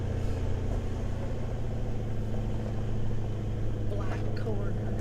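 Steady engine drone of a 4WD vehicle climbing a steep mountain cliff road in Tasmania's Central Highlands, a constant low rumble filling the whole stretch with a few faint higher squeaks.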